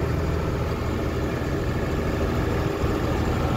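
A tractor engine runs at low RPM while baling hay in a field, a steady, loud, continuous drone with no talk.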